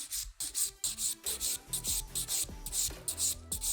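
An acrylic nail is filed and bevelled by hand, a steady back-and-forth rasping of quick, even strokes, close and clear with no talking.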